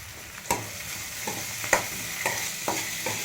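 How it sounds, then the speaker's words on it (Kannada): Capsicum frying in a pan, a soft steady sizzle broken by several sharp scraping clinks of a spoon stirring, close and moderately quiet. "ಇವಾಗ ಕ್ಯಾಪ್ಸಿಕಮ್ ಹಾಕೋಣ ದಪ್ಪ ಮೆಣಸಿನ್ಕಾಯಿ ಒಂದು ಅರ್ಧ ತಗೊಂಡಿದ್ದೀನಿ"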